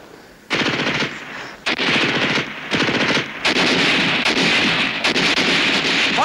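Machine gun fire from a 1964 war TV drama, sounding as loud close bursts of rapid shots with brief gaps between them and no talk over it.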